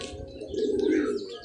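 Racing pigeons coo in a soft, continuous low murmur that swells in the middle, with faint chirps above and no talking.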